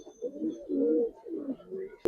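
Giribaz pigeons in a Bangladeshi loft give a close, clear run of soft rolling coos in several pulses, ending with a sharp click.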